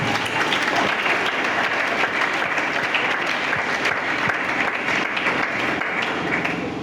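A congregation at a youth convention church service breaks into loud, sustained applause, dense continuous clapping from many hands filling the hall for several seconds without speech.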